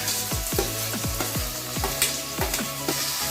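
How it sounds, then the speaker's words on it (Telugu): Chopped onions hit hot oil for a radish curry and sizzle steadily, with a spoon stirring in a quick repeated rhythm, close and continuous. "ఉల్లిపాయలు ఇలా వేసుకొని దోరగా వేసుకోవాలి"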